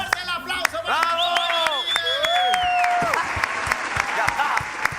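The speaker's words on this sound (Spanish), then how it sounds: "Fuerte el aplauso." A crowd applauds with steady, dense clapping while loud voices shout and cheer over it.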